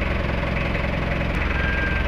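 Isuzu C223 diesel engine idling in a 10-seater AUV, a steady, loud, close mechanical drone with an even low rumble throughout and no talk over it.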